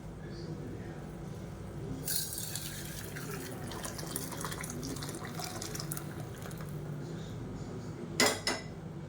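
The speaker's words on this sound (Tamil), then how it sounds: "இப்போ இந்த ரசத்தை எடுத்து அப்படியே நம்ம இந்த பாத்திரத்தில் ஊற்றிடலாம்." Murungakkai (drumstick) rasam is poured into a metal vessel in a home kitchen, a soft continuous liquid trickle under faint clinks of metal, with a sharp clatter of the pot near the end.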